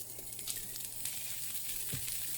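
Sausage sizzles in a hot pan for an Italian breakfast sandwich, a steady faint hiss of frying with occasional soft pops and a light clink.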